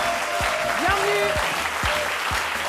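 Studio audience clapping on a live French-language midday television talk show, a loud continuous wash of applause with a few sharp sliding tones and thumps cutting through it.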